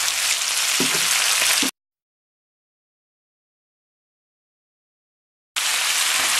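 Spinach sauce sizzles loudly in a pan with broadband hiss and a few stirring scrapes, then cuts to silence for several seconds before the sizzle returns.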